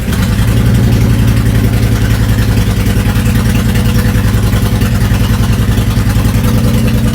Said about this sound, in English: And then we'll start the bike and check for any leaks.